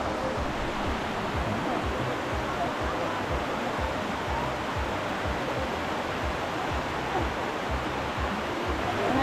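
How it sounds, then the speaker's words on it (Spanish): Waterfall at Jermuk, Armenia, a loud, steady rushing roar of falling water that fills the whole stretch without a break. "Pero digan ustedes si no está preciosa la cascada."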